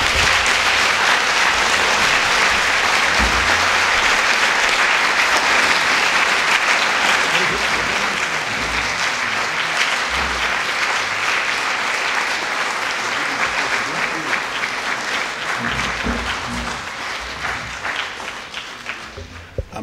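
Sustained audience applause after a speech at a lecture event, loud and dense with many hands clapping, holding steady before slowly thinning toward the end.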